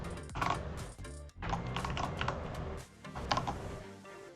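Rapid keystrokes on a computer keyboard while entering Python code, an irregular run of clicks and clatter, close and steady with brief pauses, no talking.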